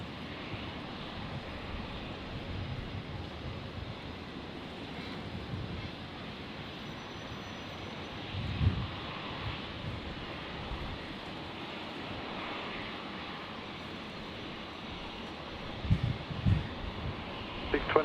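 Qantas airliner taking off from Brisbane runway 01, a moderate distant jet rumble with wind-like buffeting and occasional thumps, under intermittent radio voices.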